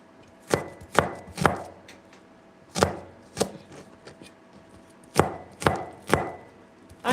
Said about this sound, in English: I'm chopping all these veggies